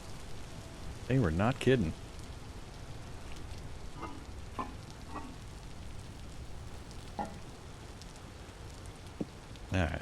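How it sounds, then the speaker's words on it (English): Rain falls steadily in the Vintage Story survival game, a continuous hiss that runs throughout, with a person speaking briefly over it. "Damn rain."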